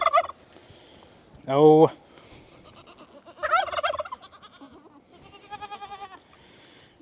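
Turkeys gobbling on a farm with livestock: several loud, close, rapid warbling gobbles spaced a second or two apart, alternating with quieter rattling calls, with a brief human exclamation at the start.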